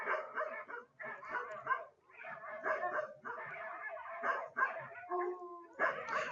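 Several dogs bark, yip and howl almost continuously in the background, with overlapping, fairly loud volleys and brief pauses for about six seconds.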